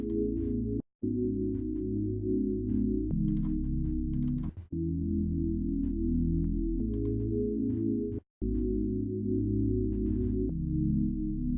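A smooth, hollow detuned sine wave synth pad of pure tones with a slight wobble holds low chords that shift a few times, with brief dropouts between.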